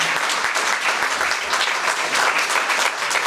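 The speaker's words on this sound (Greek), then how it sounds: "Ένα χειροκρότημα." A gathered audience at a Three Hierarchs feast-day event in Stanos, Chalkidiki, gives sustained applause, a thick, even roar of clapping hands that stays strong from start to finish.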